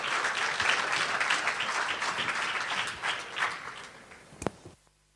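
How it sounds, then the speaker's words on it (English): An audience at a youth day forum event applauds a team with a sustained burst of clapping that gradually fades, ending in a few scattered claps and a sharp knock. "please support this team with a very, very warm applause"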